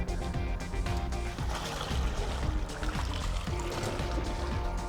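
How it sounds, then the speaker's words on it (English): Water gushes steadily from the recovery tank drain hose of a Windsor Chariot iScrub 26-inch stand-on floor scrubber, a continuous close splashing and pouring flow that holds throughout without pause. "To empty your tanks, the recovery tank is the large hose with the black cap."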